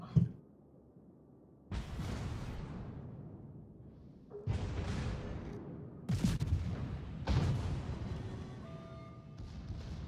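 Naval guns firing in a warship video game: several loud booming salvos in a row, each trailing off into a long rumble, with quiet stretches between them.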